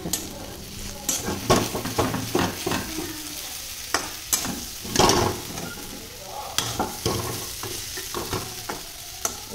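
Jackfruit seeds fry in a pan until crispy, giving a continuous sizzle broken by repeated sharp clicks and scrapes of stirring, close and fairly loud.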